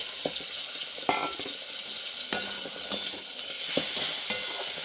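Eggplant pieces seasoned with salt and turmeric frying in a pan, a steady sizzle with a few sharp scrapes and clinks of stirring spaced through it, close and fairly quiet.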